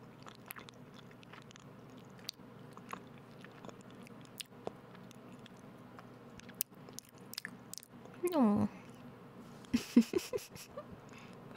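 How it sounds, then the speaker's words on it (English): Soft, close chewing of sticky red bean mochi, faint mouth clicks and squishes scattered throughout, with a louder burst of chewing and a brief hum near the end. "Mochi is hard to chew."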